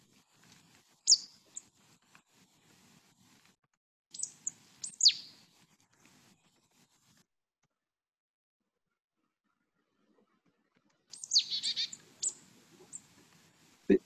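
A few faint, thin marsh tit calls come in short bursts separated by quiet gaps, with a slightly busier cluster of high chirps near the end.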